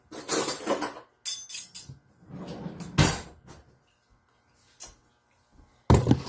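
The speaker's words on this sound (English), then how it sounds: "Now I'm going to get a fork and a spoon." Metal cutlery is gathered from a kitchen drawer, a fork and spoon clattering and clinking in several sharp bursts with brief quiet gaps between.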